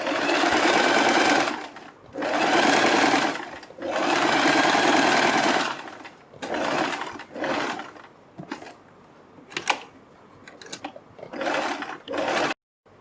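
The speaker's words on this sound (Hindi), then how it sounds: "हम यहाँ से सिलाई लगानी शुरू करेंगे और यहाँ तक सिलाई लगाएंगे।" A sewing machine stitches fabric for a kurti neckline, running loud and close in several long bursts with short pauses, then in quicker, choppier runs toward the end.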